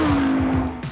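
A powerful car tears around a race track, its loud engine roaring close with a sustained high drone and rhythmic pulses, briefly dipping near the end.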